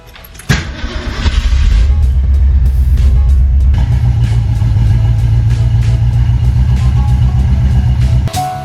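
A 1968 Ford Mustang Fastback classic muscle car starts and settles into a loud, deep engine rumble that holds steady and close for several seconds, with no talking.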